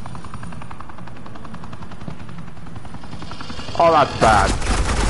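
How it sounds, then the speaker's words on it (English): Suppressing gunfire in the Batman: The Enemy Within game: a steady rattle of automatic fire under ambient noise, growing louder near the end as a voice speaks briefly. "Suppressing fire."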